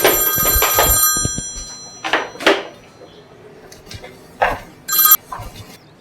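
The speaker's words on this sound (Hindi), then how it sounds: "आपका फोन आ रहा है" A telephone rings in a home with a repeated electronic trill, loud and close, the rings breaking into short bursts separated by gaps, with a few faint knocks and thumps around them.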